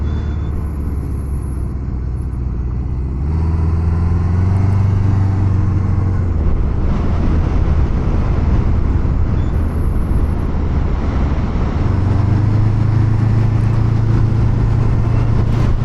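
A 1977 Honda Hondamatic air-cooled four-cylinder motorcycle is ridden uphill, its low, steady engine drone rising in pitch as it pulls, loud and close over rushing wind, with no talk.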